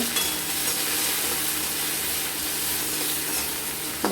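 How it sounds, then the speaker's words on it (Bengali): Potato pieces with a pinch of turmeric powder sizzle in hot oil while being stirred, making a continuous, loud frying hiss that holds steady throughout, with no talking. "আমরা আলুর মধ্যে একটু সামান্য হলুদ গুঁড়ো দিয়ে দেব দিয়ে একটু নাড়াচাড়া করে"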